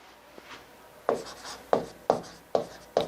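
Chalk or marker strokes on a classroom board during a maths lesson, five sharp, distinct scratching taps at an irregular pace, close and clear with a quiet room behind them.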